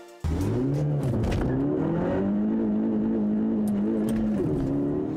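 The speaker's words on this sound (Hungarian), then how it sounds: "ez 4 darab leszabályzás volt, mert a haver nem akart felváltani" A car engine screams at high revs, repeatedly hitting the limiter with a stuttering, bouncing tone over several seconds, loud and close from inside the cabin on a race track during a timed lap.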